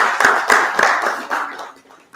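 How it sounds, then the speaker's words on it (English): A few distinct hand claps from an audience welcoming guests at a talk, spaced and fading quickly into quiet. "let's give them a big round of applause"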